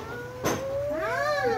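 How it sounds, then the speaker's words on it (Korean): A single close cat meow, drawn out and rising then falling, preceded by a brief knock. "고양이네요, 그냥. 진짜 고양이지?"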